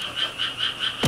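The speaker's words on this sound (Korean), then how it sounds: "개구리가 너무 많아." Frogs croak in a steady pulsing chorus at night in a quiet countryside setting, four or five regular rasping bursts close by and fairly loud, with a sudden thump at the very end and no voices.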